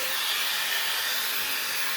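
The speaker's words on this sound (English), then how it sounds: "I'm going to cut on the mic to hear how the blow dryer sounds in real life" Shark Flex Fusion or Dyson blow dryer running steadily while drying type 4 hair, a loud continuous airy rush with no talking.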